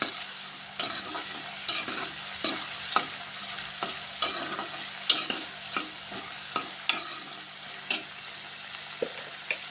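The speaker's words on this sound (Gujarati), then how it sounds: "ડુંગળી અને ટમેટાને આપણે 10 મિનિટ સરસ રીતે પાકી જાય ત્યાં સુધી હલાવતું રહેવાનું છે ધીમે ધીમે" Onions and tomatoes fry in a pan for an eggplant bharta, stirred slowly with a spoon that scrapes in regular strokes about once a second over a soft, steady sizzle.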